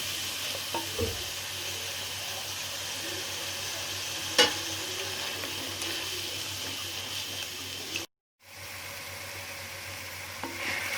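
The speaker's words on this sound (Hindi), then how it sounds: "थोड़ा थोड़ा दही डाल के गोश्त को अच्छी तरह भून लेंगे" Goat or mutton meat frying with spoonfuls of yogurt in a pot for shab deg, a steady close sizzle with occasional stirring scrapes and a brief dropout near the end.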